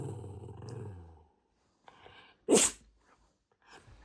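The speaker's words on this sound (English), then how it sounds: "Are you sneezing?" A dog sneezes once, a sharp, loud burst standing out after a short pause, preceded by a voice speaking and followed by faint quieter sounds.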